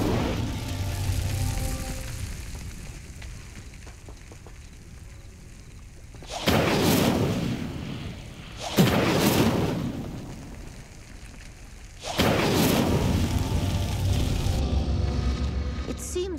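The Incendio fire spell in Hogwarts Legacy ignites pyres with three loud, whooshing bursts of flame, each roaring for about a second or two, over a soft ambient background.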